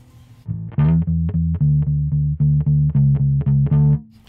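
Bass guitar through a Two notes Genome with mids and bass boosted and a little treble cut plays a run of about a dozen plucked notes, loud and punchy with a thick low tone, alone without talk.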